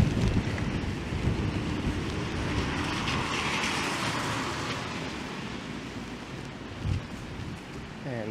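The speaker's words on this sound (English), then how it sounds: "This wind is proving to be quite strong." Strong wind gusting on a rainy November walk through east downtown Toronto streets: a loud, continuous blustery roar buffeting the microphone, swelling slightly midway with a brief thump near the end, and faint voice underneath.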